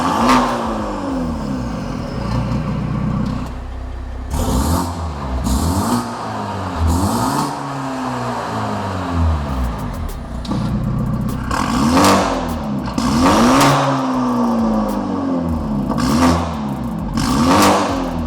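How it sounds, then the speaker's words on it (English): A BMW G20 330e fitted with M340i exhaust tips starts up and revs repeatedly, loud and close, with rising and falling engine sweeps between idling stretches and no talking. "I will let my colleague start the car and let you hear how it sounds."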